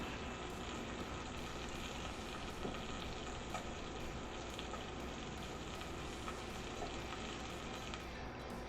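A wheel of Brie cheese sizzles on a Blackstone griddle with a steady, dense crackle and hiss that stays even throughout, close and moderately loud, with no voices.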